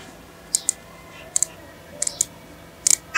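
Sharp, tiny clicks from a smartwatch's mechanical crown turning with haptic feedback, arriving in quick pairs and small clusters, close and crisp over a quiet background.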